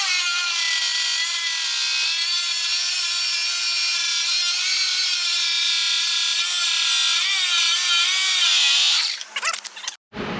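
Cutting a 5-inch sleeve for a 3-inch exhaust on a GTO: a steady, loud, high-pitched grinding whine runs continuously at close range, then sputters and stops near the end.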